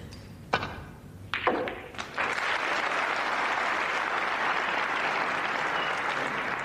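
An enthusiastic snooker crowd at the 1991 Benson and Hedges Masters final breaks into loud, sustained applause after a few scattered thumps and claps, the clapping swelling to a steady dense roar.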